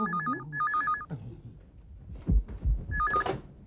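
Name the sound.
telephone ringing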